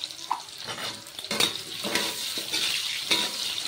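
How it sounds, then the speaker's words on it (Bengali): Potatoes frying in oil with a little salt in a Bengali home kitchen, giving a steady sizzle broken by clinks and scrapes of a utensil stirring the pan, heard close with no talking. "এবার আলুটাকে ভেজে নিই"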